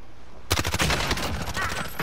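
Rapid bursts of automatic gunfire in Call of Duty: Warzone erupt suddenly after a half-second of near silence, dense overlapping shots continuing loudly to the end with faint voices underneath.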